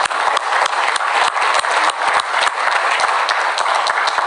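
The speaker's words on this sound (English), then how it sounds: "So give yourselves a big round of applause" Audience applause at an Amway India leadership summit, a large hall filled with steady, loud, rapid clapping that holds evenly throughout.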